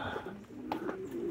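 A racing pigeon gives a short, soft cooing call nearby over a quiet outdoor background, with no one speaking.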